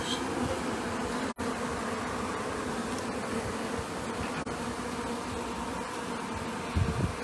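Honey bees swarming at a chimney during a colony removal make a dense, continuous buzz that holds steady and fills the whole stretch, with no voices over it.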